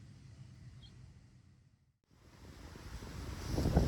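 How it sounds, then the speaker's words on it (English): Strong wind buffets outdoors on an open field, rushing against the microphone, dropping briefly to a lull and then surging louder again, with no talk. "Ooh, this wind is really picking up, Rich."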